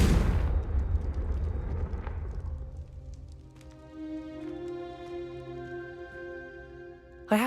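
A Confringo fire spell explodes in the video game Hogwarts Legacy, a loud rumbling blast that dies away into a crackling, fizzing tail and a lingering tonal shimmer, with no talking.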